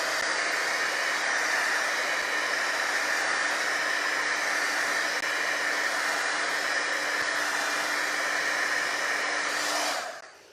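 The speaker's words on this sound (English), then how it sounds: "hit him with a blow dryer too, or the heat gun that I have handy" A steady, loud blowing whoosh of a blow dryer or heat gun drying a craft project runs continuously for about ten seconds, then cuts off abruptly at the end.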